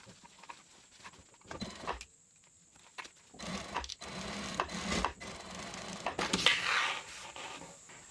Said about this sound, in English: we're going to sew a top stitch a 1/16 inch away from that sewn edge